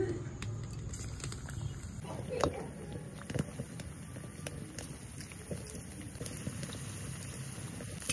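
Dough balls sizzle and bubble in hot oil over a lit stove, giving a steady low frying hiss broken by occasional small pops throughout.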